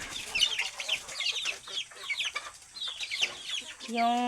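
Young chicks and hens in a small backyard coop cluck and peep continuously, a busy overlapping chorus of bird calls close by, with a brief harsher squawk near the end.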